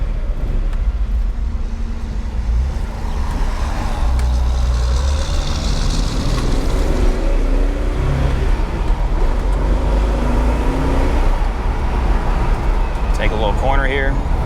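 A 1976 Datsun 280Z drives along the road with a steady engine drone and road rumble from inside the cabin, taking a corner, while people talk over it.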